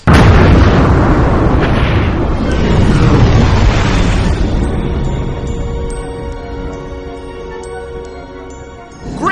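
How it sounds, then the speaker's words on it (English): A huge planet explosion sound effect from the film Lost in Space: a loud, roaring blast that rumbles on and slowly fades, with tonal music swelling in behind it near the end. "They make it out before the planet explodes."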